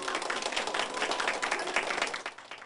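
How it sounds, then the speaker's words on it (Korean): Guests at a hospital party in Hwasun celebrating a Guatemalan girl's recovery break into applause, a dense, steady patter of many hands clapping at moderate distance throughout. "이곳저곳에서 박수가 쏟아집니다"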